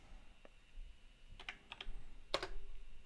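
A few quiet, scattered clicks of a computer keyboard as a command is typed, close by in a silent room.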